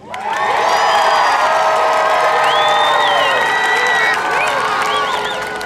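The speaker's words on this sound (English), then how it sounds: "With the sound of applause, we will determine today's winner." Fans in a crowd at a coaches' competition clap, cheer and whoop loudly for a coach, with high shouts and children's voices over continuous applause.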